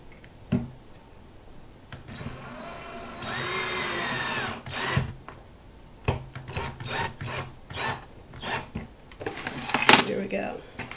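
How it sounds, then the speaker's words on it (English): A power drill whirs in a short burst, then grinds and rasps in several brief pulses drilling into a canvas frame, close by, with someone speaking between the bursts. "I have a drill, so it's a lot easier that way. I'm going to drill into the frame"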